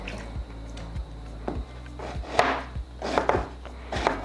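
Knife chopping brinjal (eggplant) on a board for a Sri Lankan wambatu curry: a run of sharp, close, irregular cuts, some louder and wetter than others, with no talking.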